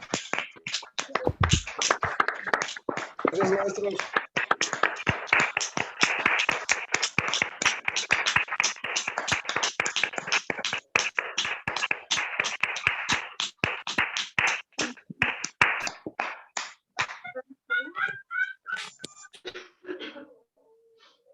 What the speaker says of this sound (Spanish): darle un fuerte aplauso a la cuenta de 3 al profesor por dicho webinar